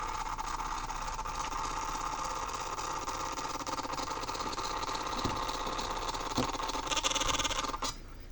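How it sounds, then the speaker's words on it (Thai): A cheap thermal receipt printer printing a shipping label: a steady, even mechanical whir running for several seconds, then cutting off abruptly. "ลองปริ้นใบปะหน้าส่งของทั่วไปนะครับ"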